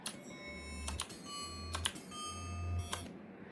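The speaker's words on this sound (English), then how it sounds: "And that right there is set up perfectly for a bell" Bell tones from an FM synthesizer in a retro modtracker setup sound in a slow sequence, each note swelling gently and fading, with faint tapping clicks between them and no talking.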